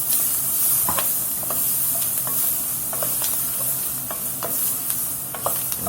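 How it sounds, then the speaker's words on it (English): A trinity of onion, celery and bell pepper fries in dark roux for crawfish étouffée, a constant close sizzle broken by repeated scraping stirs of the spoon against the pot, with nobody speaking. "And we are frying this trinity right now."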